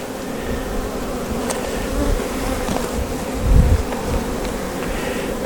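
Honeybees swarm around an opened hive during a brood frame inspection, a steady close buzzing drone that holds for the whole stretch and swells briefly near the end.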